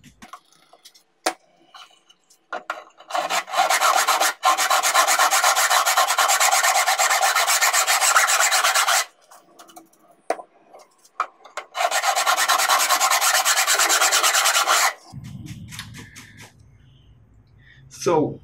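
A filing block held in both hands cuts a groove along the frets of a guitar neck, with two long, steady rasping passes and a few short scraping strokes in between.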